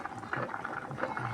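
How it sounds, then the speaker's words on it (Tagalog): A dish boiling in a pot, giving a soft, continuous bubbling simmer that is faint and close throughout the brief moment. "Ang kulo niya."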